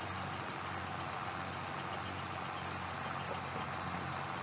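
A John Deere tractor engine in Farming Simulator 22 runs at a steady idle-like drone, a continuous low mechanical hum with even intensity throughout and no talking.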